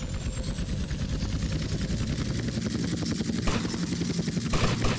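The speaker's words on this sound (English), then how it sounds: "Helicopter." A military helicopter in GTA Vice City at an army base, its rotor beating in a rapid steady chop with a whining turbine tone, loud and continuous, with brief sharp bursts near the end.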